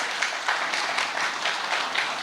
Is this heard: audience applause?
yes